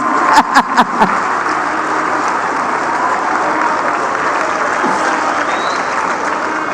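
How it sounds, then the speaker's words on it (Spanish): Crowd at an outdoor event in Macuspana, Tabasco, applauding, opening with a few sharp separate claps that merge into a sustained, loud wash of clapping lasting several seconds. "mucho cariño le enviamos desde aquí, aplausos"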